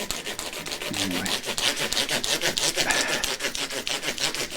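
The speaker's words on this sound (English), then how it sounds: "so this is how exciting the sanding process is. Noisy, exciting" Rapid, rhythmic rubbing strokes of hand sanding with micro mesh on an Epiphone ES339 guitar, a fast back-and-forth scratch repeating steadily and close by.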